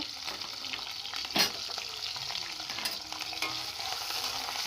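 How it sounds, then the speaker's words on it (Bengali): Chopped onions with bay leaves frying in mustard oil, a close steady sizzle broken by a few sharp stirring scrapes, no talking. "পেঁয়াজটা খুব ভালো করে ভাজা ভাজা করে নেব"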